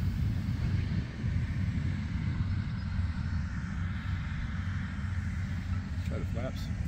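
Flightline 1200mm Bearcat RC airplane on a 4S battery, a steady low motor drone heard from a distance with wind-like rumble throughout, fairly faint, with people talking nearby.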